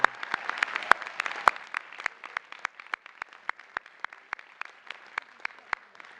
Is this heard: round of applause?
yes